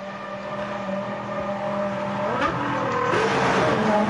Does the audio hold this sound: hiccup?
no